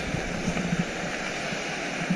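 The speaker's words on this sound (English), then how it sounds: "It's a very impressive waterfall." Kaaterskill Falls in New York in winter gives a steady, even rushing wash of falling water, continuous and somewhat distant, with no voices.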